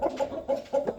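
Young chick, hatched in late March and not yet grown into a rooster, gives a few short soft clucking calls in quick succession, close and fairly quiet.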